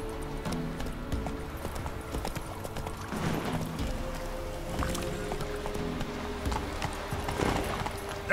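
Horse hooves clip-clopping in The Witcher 3 at a steady riding rhythm, close and moderately loud over an ambient game background with faint water-like sounds.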